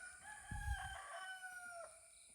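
A rooster crows once in the early morning in the Malnad forest countryside. The call is long and drawn out and sounds fairly distant and soft against quiet surroundings.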